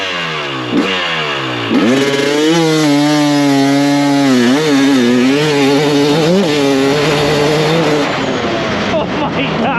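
A 2024 GasGas MC250 dirt bike revs hard and accelerates in third gear, its loud, close two-stroke engine climbing in pitch through several rising sweeps, with a brief shout over it.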